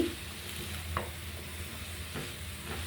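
Vegetables sizzle and are stirred in a pan on a stove, a soft steady frying hiss with occasional faint scraping of the spatula, quiet and close with no talking.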